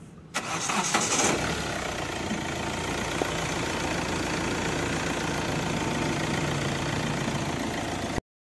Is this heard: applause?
no